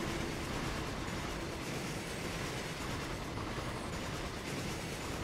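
A BR 185 double-traction car-carrier train in a train simulator runs at speed as a continuous broad rumble of wheels and rails, steady and fairly close, with no voices.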